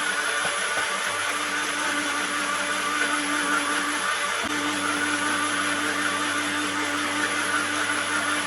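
A kitchen mixer grinder whirs steadily as it grinds fennel and poppy seeds into a fine paste. The motor holds an even, continuous hum throughout.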